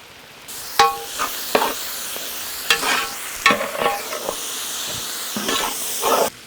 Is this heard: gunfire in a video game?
no